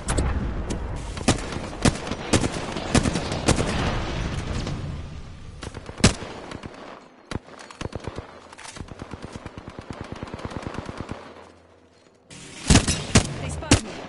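Gunfire in the video game Apex Legends, rapid automatic bursts and single sharp shots in clusters, loud and close, with pauses, a brief lull and a final volley.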